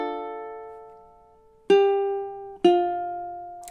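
Ukulele plays measure 22 of a song: a sustained ringing note fades, then two clear plucked notes follow a second apart, close and alone.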